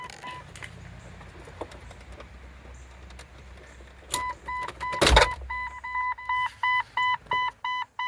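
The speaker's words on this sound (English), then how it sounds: "now that the headlights are beeping that they're on" A 2000 Jeep Cherokee sounds its headlights-on warning as steady, evenly spaced electronic beeps in a repeating on-off rhythm, close and clear. A sharp clunk comes just before the beeps start.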